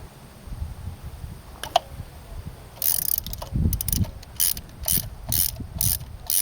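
A ratchet with a deep well 5/8 socket loosens spark plugs on a 2010 V6 Camaro. Quick bursts of close, crisp pawl clicking repeat in a steady rhythm, with a couple of isolated clicks before them.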